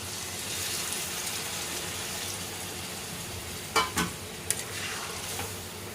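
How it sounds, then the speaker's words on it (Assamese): Chicken pieces frying with tomato in a pan keep up a steady close sizzle, then hot water is poured in, giving a few sharp splashing bursts before the frying hiss settles again. "এতিয়া মই পানী লৈছোঁ গৰম পানী লৈছোঁ ইয়াতে দি দিম"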